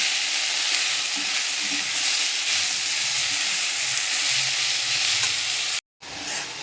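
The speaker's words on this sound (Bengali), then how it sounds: "শাকটাকে একসঙ্গে ভালো করে ভেজে নেব।" Continuous hissing sizzle of drumstick greens frying in a hot pan with poppy seeds, with soft stirring noises, cutting off abruptly near the end.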